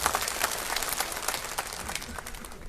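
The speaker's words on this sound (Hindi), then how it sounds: "जोरदार ताली बजा दो" An audience at a political party rally applauds after an energetic speech; a continuous patter of many hands clapping at moderate distance, fairly soft and steady with no voices standing out.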